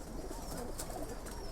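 A silver female pigeon coos at home, a soft, low call sitting close in a steady background hiss.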